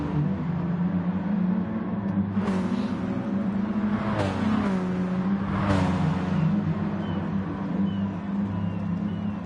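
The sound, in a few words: race car engines in Gran Turismo Sport video game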